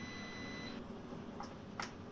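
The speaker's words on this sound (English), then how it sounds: "It will beep 3 times before it turns off." A Power Air Fryer XL gives one steady electronic beep near the start as it finishes cooking pork ribs, followed by a couple of faint clicks over a soft background hum.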